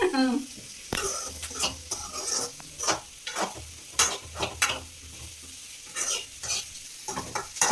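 Onions frying in a home kitchen pan, with repeated scraping stirs over a steady sizzle, close and fairly loud, the strokes coming in an irregular rhythm.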